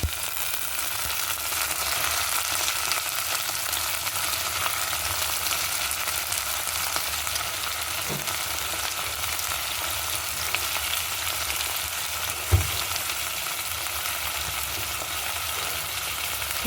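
Broad beans (country flat beans) sizzle steadily in a pan with green chillies, curry leaves and onions, a continuous close frying hiss with a couple of brief knocks, no voices.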